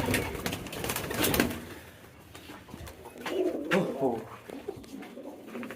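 Pigeons (fancy breed) coo softly at close range, low throaty calls repeating over a background of rustling and light handling noise.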